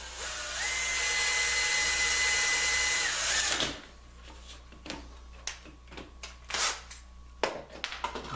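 A power drill with a half-inch bit bores a hole in a shuffleboard for a light, whining loud and steady for about three and a half seconds before stopping. Scattered clicks and small clatters follow.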